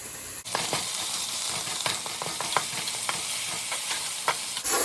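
Constant crackling sizzle of crushed ginger and garlic frying in oil, with sharp spatters and scrapes of stirring throughout, close up and uninterrupted.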